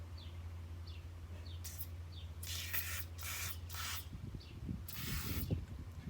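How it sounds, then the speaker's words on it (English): An aerosol can of open gear lubricant sprays onto exposed gearing in several short hissing bursts, close to the microphone, over a low steady hum. "So it just kind of sprays on like this."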